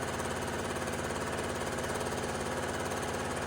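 A sewing machine runs steadily, back-stitching the top edge seam of a homemade fabric grocery-sack dispenser, its fast mechanical rattle continuous and close.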